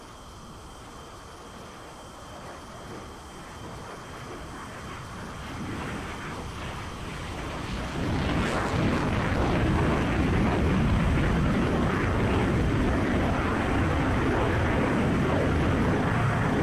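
A jet aircraft takes off in the Falcon BMS flight simulator game. A steady engine roar builds gradually and grows louder and broader about halfway through, then holds as a sustained rushing noise with no speech.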